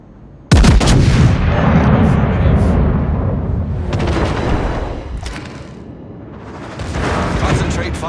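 A battleship's heavy guns fire in the naval video game World of Warships, the Ohio unleashing a loud booming salvo followed by long rumbling roars and further blasts.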